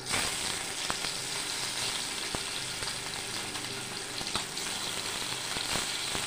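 Small pakal fish sizzling in hot oil in a pan, a steady dense frying hiss with occasional sharp crackles and pops, close and fairly loud, running without pause and with no talking.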